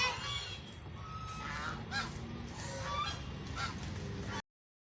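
Geese or ducks honk and call repeatedly over a steady outdoor rumble, several birds overlapping at close to moderate distance.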